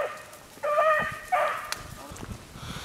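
A hunting dog chasing a rabbit gives two drawn-out baying barks in the distance, separated by a short pause, with faint rustling and outdoor background between them.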